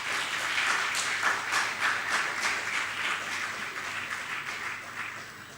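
At an Anti-Ragging Day celebration, an audience welcomes a guest speaker with a steady wash of applause that runs for several seconds and slowly fades, with no voices over it.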